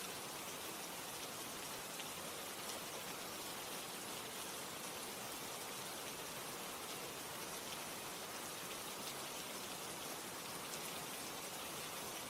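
Steady rain falls continuously, a soft, even hiss of drops on surfaces that holds without change throughout, fairly faint and with no voices.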